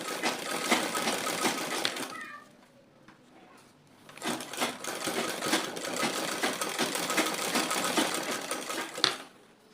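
Sewing machine stitching a bust cage, loud and close, running in two long bursts separated by a quieter pause of about two seconds.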